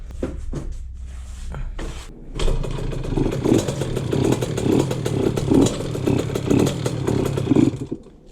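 KTM 50 dirt bike engine on a test ride after a kickstarter repair, buzzing steadily with rising and falling revs after a few short clanks at the start, close and fairly loud with no talk.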